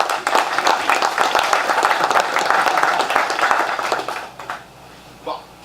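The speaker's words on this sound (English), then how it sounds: "Round of applause for Bob Lester," A crowd at the Brodhead Pietenpol fly-in claps for a Pietenpol owner who flew in from Florida, a full round of applause that thins and fades out, followed by a brief voice near the end.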